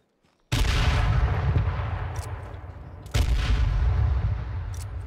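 Loud, sustained bursts of rapid gunfire in the video game H1Z1, two long volleys back to back with a brief break, no voices.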